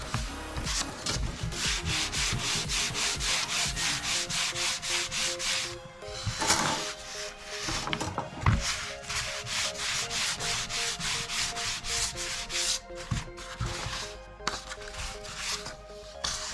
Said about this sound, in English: Fine sandpaper to give that very smooth feel.